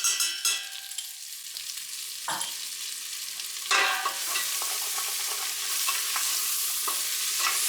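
Onions and garlic drop into a pan and start frying, with a few sharp spatters at first, then a sizzle that builds and holds steady, fairly quiet and with no talk.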